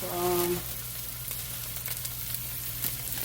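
Green beans sizzling in a pan on a home stovetop, steady crackling frying hiss throughout, with a brief voice at the start.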